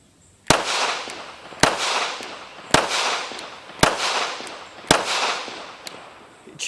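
Shots from a Smith & Wesson M&P Shield X pistol, five sharp, loud reports at a steady interval of about one second, each followed by a brief ringing decay at an outdoor range.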